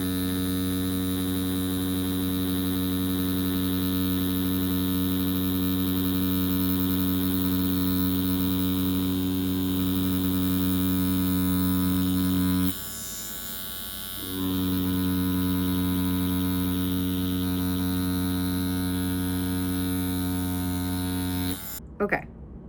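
A Mast Racer Pro tattoo machine runs at higher voltage, giving a steady, close electric buzz with strong tonal hum that briefly dips and roughens midway, then stops near the end.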